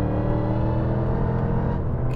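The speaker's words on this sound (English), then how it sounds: "that throaty sort of AMG V8 noise coming out side pipes is just absolutely unreal" A Mercedes McLaren SLR roadster's supercharged AMG V8 rumbles loud and close through side-exit exhaust pipes, holding a steady throaty growl with a high whining edge on top.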